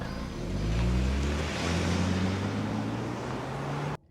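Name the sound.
2025 Range Rover Evoque accelerating off the line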